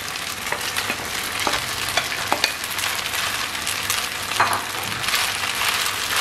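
Egg chow mein noodles with scrambled egg stir-fry in a hot pan: a steady, close sizzle with repeated scraping and tossing strokes throughout.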